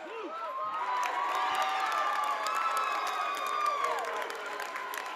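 A basketball crowd at a Vermont Division 3 high school quarterfinal, Hazen against Randolph, shouts and cheers loudly for a call, a dense sustained roar of voices and whoops with scattered claps.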